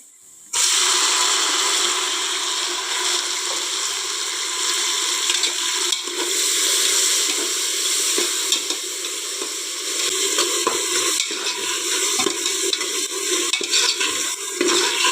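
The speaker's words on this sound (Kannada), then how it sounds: "ಇದು ಒಂದು ಸ್ವಲ್ಪ ಚೆಂದ ಮಿಕ್ಸ್ ಆಗಿ ಫ್ರೈ ಆಗಬೇಕು" Onion and tomato fry in a pan for a dill leaf pulao, giving a loud continuous sizzle with scraping stirring strokes throughout, close and without talk, after a brief quiet moment at the start.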